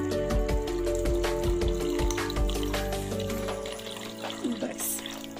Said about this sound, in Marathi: अगदी थोडंसं पाणी घालणार आहोत आपण यामध्ये।